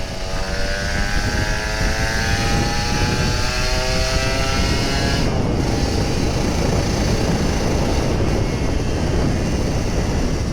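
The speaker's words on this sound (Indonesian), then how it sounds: "Kita panasin Ninja, abis isi bensin di Shell." A Kawasaki Ninja RR 150, an older two-stroke sport motorcycle, warms up after refueling, its engine giving a loud, continuous, raspy idle up close, with a rising whine layered over it early on.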